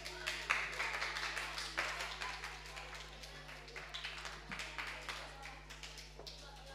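Children at a school lecture applaud together, a lively patter of many small hands that gradually thins out, with a steady electrical hum underneath and a voice speaking over the clapping.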